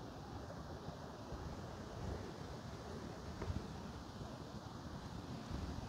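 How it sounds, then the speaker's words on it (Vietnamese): A stream near Jrai Tang waterfall in Phú Yên rushes continuously with a broad, steady roar, heard faintly at a distance, mixed with wind buffeting on the microphone and no voices. "nhưng mà thấy nó chảy suối chảy ào ào đây nè"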